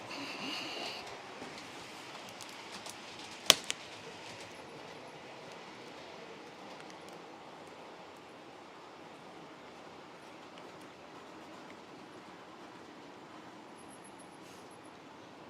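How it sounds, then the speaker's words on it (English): A train rolling past at a steady distance, a continuous broadband rumble of rail traffic with a sharp click near the start, then an even wash of wheel and carriage noise. "The ABBA train."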